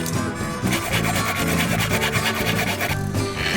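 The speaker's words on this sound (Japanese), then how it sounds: "アクリル板の細かい部品は、先に穴を開けてから、ノコギリで切っていきます。" A hand saw cutting through a small acrylic plate part, steady rapid rasping strokes, loud and close, with no talking.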